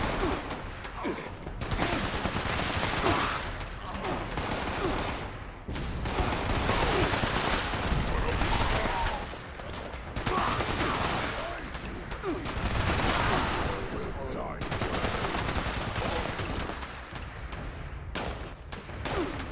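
Rapid bursts of close-range gunfire from a short-range gun in the video game Fallout 76, loud and sustained in several volleys separated by brief pauses.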